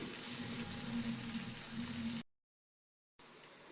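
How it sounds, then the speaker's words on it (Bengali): Onions frying in a pan for a Bengali-style chicken changezi, a steady close sizzle and crackle that cuts out abruptly to silence for about a second before resuming. "পেঁয়াজটাকে একটু লাল লাল করে ভেজে নিতে হবে।"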